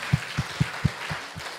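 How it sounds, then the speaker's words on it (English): A few people in a church congregation clap slowly and sparsely, about six soft, evenly spaced claps over a low background hum during a worship service. "Why don't you give the Lord a little clap of offering?"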